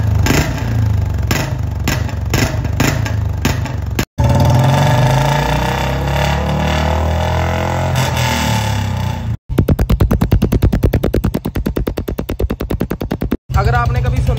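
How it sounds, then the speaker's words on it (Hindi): A seized Royal Enfield Bullet motorcycle engine runs roughly and loudly nearby, clattering and knocking unevenly, with talk over parts and a rapid rattling stretch toward the end. "मेरे को लगता है कि इसका इंजन सीज हो गया है"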